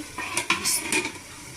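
A metal lid set down on a cooking pot of chicken being braised, giving a few sharp clattering clinks of metal on metal close by over a low background hiss, with no talking.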